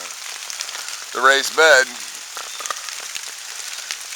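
Steady rain patters on an umbrella and tarp over gear at a hammock camp, a dense continuous hiss, with someone talking briefly close by partway through.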